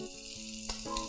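Shrimp and cut vegetables sizzling as they stir-fry in a hot pan, a steady close crackling hiss with a brief louder burst near the end.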